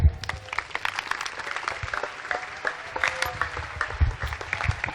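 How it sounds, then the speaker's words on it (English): Crowd of residents clapping at a community gathering held to address voters, a steady round of applause lasting the whole stretch, dense and fairly close with uneven bursts of individual claps. "I think this young statistician needs a still huger round of applause."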